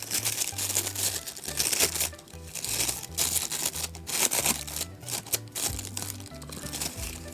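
Cellophane crinkles and rustles as it is pressed over faux stained glass, wet paint on a glass pane, steady crackling bursts close to the ear with no talk.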